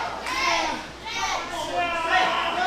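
A wrestling crowd chants at a live ProSouth Wrestling event in rhythmic bursts of several voices that rise and fall three times, fairly close and loud.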